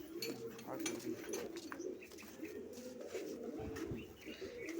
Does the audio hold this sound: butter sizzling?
no